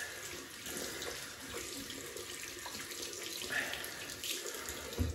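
Tap water runs continuously into a sink while a shaving soap pack is rinsed, a soft, steady splashing hiss heard close up with no talk.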